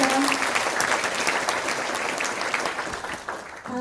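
Sustained audience applause at a Korean local-autonomy ceremony, thick continuous clapping, with a speaking voice cutting in at the very end.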